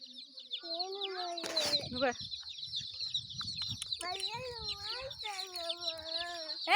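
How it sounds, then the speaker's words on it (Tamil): Many colored chicks and hens cluck and cheep in overlapping bursts, close by, with high chirping throughout and a short harsh noise near the start. "கோழி குஞ்சு, கலர் கோழி குஞ்சு."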